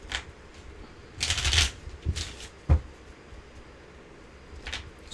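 Tarot cards shuffled by hand during a reading, giving soft papery riffles and flicks in short bursts, with a louder flurry in the middle and a sharp tap near the end, close and fairly quiet.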